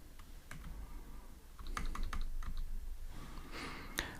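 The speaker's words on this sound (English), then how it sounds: "here I'll type" Keys clatter on a computer keyboard in short irregular bursts of close, crisp taps over a low room hum.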